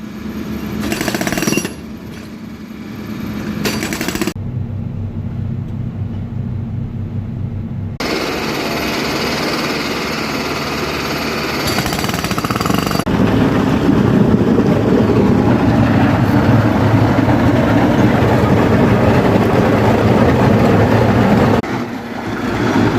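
A wheeled one-meter road planer cuts out asphalt patches on a street repair job, making a loud, continuous grinding roar that thins for a few seconds mid-clip and then returns to a heavy, steady rumble with no voices.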